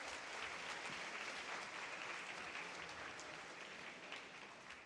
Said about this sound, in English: Round of applause for 2 books.